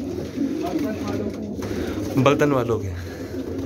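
Pigeons coo softly on a rooftop near Turkman Gate, their low burbling calls running under someone talking close by.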